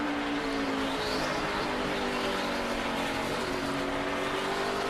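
NASCAR stock cars racing three wide in the 2008 Chevy Rock N Roll 400 at Richmond, a steady loud roar of several engines droning together with shifting pitch throughout, no voices.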